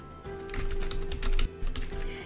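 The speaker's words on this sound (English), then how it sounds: "then start typing your essay" A computer keyboard is typed on in quick, steady clicking bursts with a brief pause, close and fairly loud over a faint steady hum.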